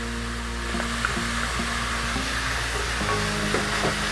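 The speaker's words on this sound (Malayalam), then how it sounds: "നന്നായിട്ട് ഇളക്കി കൊടുക്കാം." Crushed ginger and garlic are stirred in a hot pan, a steady close sizzle with a few faint scrapes from a spoon and no voices.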